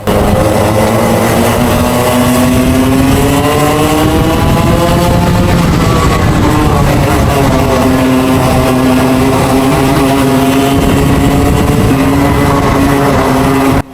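Club100 racing karts at a club race round, engines screaming loud and close with rising and falling whine as the kart accelerates, lifts and another kart passes, continuous throughout without talk.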